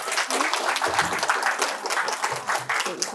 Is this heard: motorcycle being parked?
no